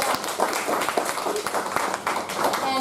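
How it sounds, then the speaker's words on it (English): A Toastmasters meeting audience applauds a member for placing second in a competition. The dense, steady clapping runs for the full few seconds at moderate loudness. "she deserves a big round of applause for that"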